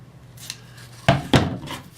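Scissors snip through ribbon twice in close succession, crisp near clicks after a faint tap, in an otherwise quiet room.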